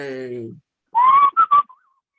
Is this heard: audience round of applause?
no